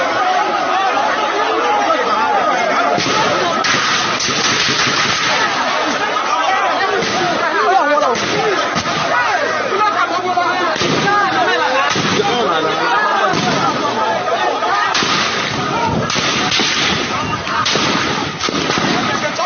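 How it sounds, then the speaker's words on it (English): Repeated gunfire from live bullets rings out across a loud, continuous outdoor scene, with dense crowd chatter and shouting running throughout under the shots. "they are shooting live bullets on innocent Biafrans"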